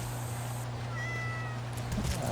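A cartoonish cat meow from the roguelike video game Vampire Hunters on PS5, a short rising chirp set against steady game music and background hum, no speech.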